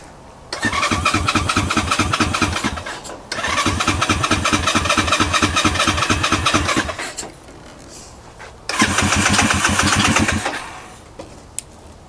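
A Honda Grom clone motorcycle engine cranks and fires, running loud and close in two long bursts with a brief cutout between, then restarting before dying away; no talk.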